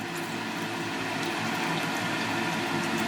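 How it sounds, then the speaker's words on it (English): Distilled water poured onto pure gold powder during a gold refining rinse, a steady continuous liquid rush and trickle heard close up throughout, with no talking. "I'm going to add some more distilled water to it now"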